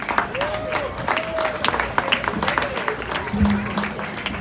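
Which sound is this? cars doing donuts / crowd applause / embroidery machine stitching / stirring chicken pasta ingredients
crowd applause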